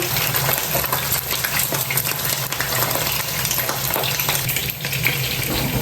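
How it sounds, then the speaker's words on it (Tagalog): Fish fries in hot oil in a pan with a loud, steady crackling sizzle that stays close and constant throughout, with no talk over it. "habang hinihintay po natin na maluto yung ating piniritong isda"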